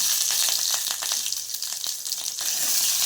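Cinnamon, cloves and whole spices fry in hot ghee and sesame oil, a dense continuous sizzle with crackling pops, close and loud, no voices.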